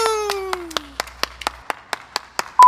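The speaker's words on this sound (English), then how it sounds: "everybody give him a round of applause." A small group gives a short round of applause: a dozen or so distinct, sparse claps in an uneven rhythm, close and crisp, with a brief whistle-like tone fading at the start.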